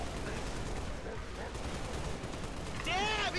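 Gunfire in Halo: The Master Chief Collection multiplayer, a sustained rattle of shots under a busy game soundscape, with a rising electronic whine near the end.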